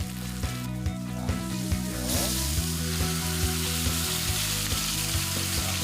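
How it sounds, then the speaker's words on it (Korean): Aged meat sears in hot oil with a loud, steady sizzle and crackle, broken by faint rhythmic taps, close and continuous with no talking. "숙성시킨 고기는 뜨거운 기름에 튀기듯이 구워야 육즙이"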